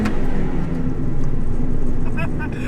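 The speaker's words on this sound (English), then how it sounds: "That was giving it all the throttle." A car engine roars loudly and close at high revs, pulling hard without a break, with a voice briefly heard over it.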